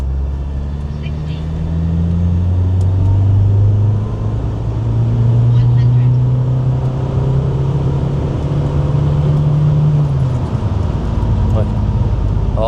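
Tuned TDI diesel car accelerating hard on a straight, heard from inside as a loud, steady engine drone that rises in pitch over several seconds and then eases off, with road rumble throughout.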